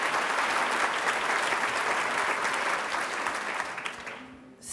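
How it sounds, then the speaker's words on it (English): Enthusiastic applause from an audience at a panel talk on othering and belonging, loud and sustained, thinning slightly and fading near the end before a voice begins. "Can we give another round of applause to Manuel?"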